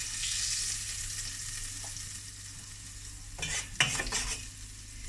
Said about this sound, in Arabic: ونحطوا الزيت والزبده ونضيفوا معاهم هذاك الثوم المسكرفس نخليهم شويه مع بعض